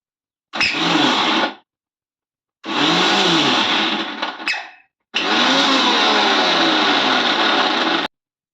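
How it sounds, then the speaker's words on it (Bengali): A mixer grinder blends grated taro (maan kochu) into a paste in three separate bursts: a short whir, a longer run that trails off, then a sustained loud grind that cuts off abruptly. No voices are heard. "এই যেটা গ্রেট করে রাখা রয়েছে ওটাকে দিয়ে দেওয়া হচ্ছে মিক্সির মধ্যে।"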